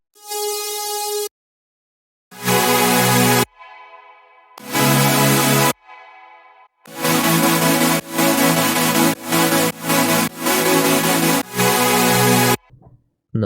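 Layered synth stack of two Massive presets and a Serum lead plays bright, sustained chords in bursts, with short silent gaps between phrases and a rapid chopped run of stabs near the end.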